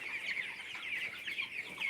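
Broiler chickens on a poultry farm cluck softly and continuously, a faint, busy chatter of many birds with no voices present.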